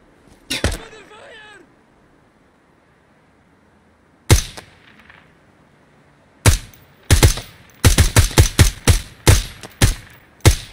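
Ground Branch tactical shooter gunfire: a lone sharp shot near the start, another a few seconds later, then a rapid burst of close, loud rifle shots in quick succession after a short quiet gap, with brief voice early on.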